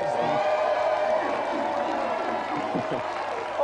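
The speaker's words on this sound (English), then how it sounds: "Round of applause for our special guest" A television game-show studio audience applauds and cheers a special guest, a snooker champion, in a dense continuous roar of clapping with whoops mixed in.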